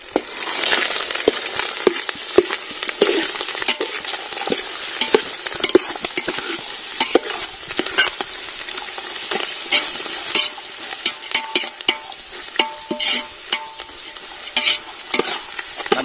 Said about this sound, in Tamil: இப்போ நல்லா வெங்காயம் வதக்கட்டும்.